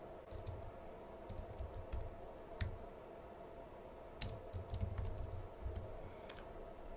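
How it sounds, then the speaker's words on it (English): Computer keyboard being typed on: bursts of quick, light key clicks in uneven clusters with short pauses between, soft and close, with no voices. "type their name here"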